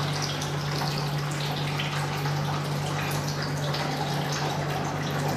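Water flows steadily out of the vents of a picosecond laser machine during installation, a continuous soft gurgling trickle with a low steady hum beneath it.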